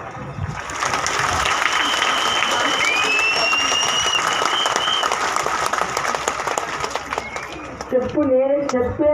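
A crowd of about 5,000 people applauding at a gathering, dense sustained clapping that fills the whole stretch, loud and continuous, with voices rising near the end.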